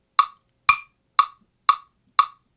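Five evenly spaced crisp clicks from a metronome app, with the second click carrying a slightly different accented tone on beat one, each ringing briefly before silence.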